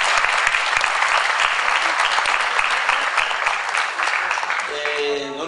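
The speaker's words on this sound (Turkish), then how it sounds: "Azize Hanım'ın nezdinde de bir alkış istiyorum." An audience at a film masterclass in İzmir applauds, a loud, sustained burst of many hands clapping that thins slightly toward the end as a voice begins to come through.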